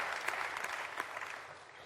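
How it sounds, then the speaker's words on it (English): An audience at a Rotary event applauds in one steady burst of dense clapping, loud and close at first and slowly easing off over about two seconds, with no talk over it. "give him a round of applause, please"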